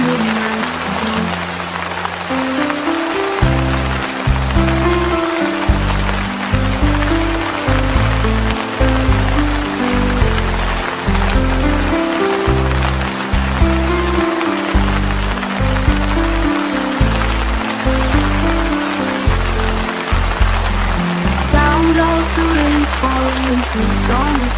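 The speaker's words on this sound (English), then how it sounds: "The rain falling from the night above." Steady nighttime rain hisses continuously over a surface, heard beneath a slow, looping melodic music backing with deep bass notes, constant and fairly loud throughout.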